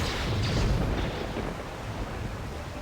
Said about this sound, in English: Where'd this cannon come from?